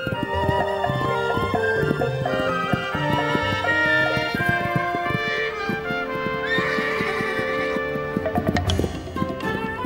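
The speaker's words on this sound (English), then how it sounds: "Stallions spar and court young mares in a drama as old as the hills." Mustang stallions neigh and whinny loudly while sparring, their calls overlapping continuously with snorts and some hoof clatter in a close, busy herd scene.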